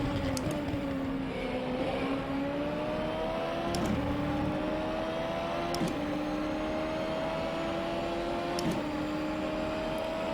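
A Nissan GT-R GT500 race car in rFactor 2 drones steadily at high revs, its engine tone rising and dipping with gear changes and throttle lifts, loud and continuous with no talk over it.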